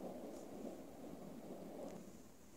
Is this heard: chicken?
no